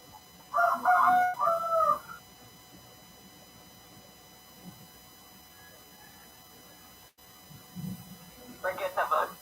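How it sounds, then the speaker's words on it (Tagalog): A rooster crows once in the background at a home, a clear but modest call rising over quiet room tone, followed later by a short burst of talk. "Forget about the tilaok ng manok."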